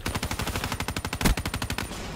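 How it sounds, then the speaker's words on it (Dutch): Rapid machine gun fire from Call of Duty: Black Ops 3, a steady stream of loud, close automatic bursts at a fast even rhythm with one heavier shot partway through, no talking. "ik ben echt aan het firen op mijn teammates omdat ik niks anders kan"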